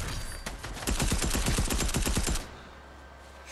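Rapid automatic gunfire in Fortnite Chapter 2 Season 4: a loud, dense burst of shots lasting about two seconds, then cut off into quiet game ambience.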